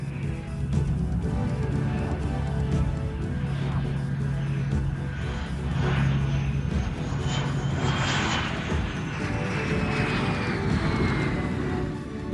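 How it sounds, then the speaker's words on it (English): McDonnell Douglas F-18 Hornet test jet doing simulated carrier landings and takeoffs at a land base, a steady loud engine roar with a whining tone that rises and sweeps as the aircraft passes. "one of the test F-18s, all of which were identified by blue or red markings on the wingtips and nose section, was subjected to carrier landing and takeoff procedures"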